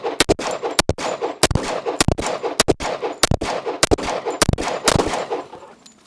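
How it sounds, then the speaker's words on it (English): Rapid gunfire from a custom 1911 Quantico pistol: sharp, loud reports come in quick bursts and irregular clusters, roughly fifteen shots in six seconds, with no talking over them. "Absolutely a joyful shooting experience."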